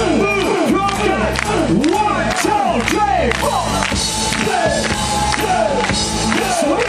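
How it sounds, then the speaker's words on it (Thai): A crowd at a meet-and-greet claps together with both hands raised, the loud clapping mixed with cheering, shouts and voices throughout. "ยกสองมือและกรุณาปรบมือพร้อมกัน"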